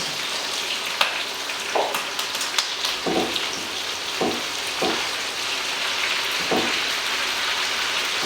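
Bacon and onions sizzle steadily in a frying pan, a constant close crackle broken by a few soft clinks and stirring knocks.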